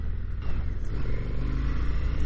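An Indian FTR motorcycle accelerating on a demo ride, a steady, close engine rumble with rising revs lasting about two seconds.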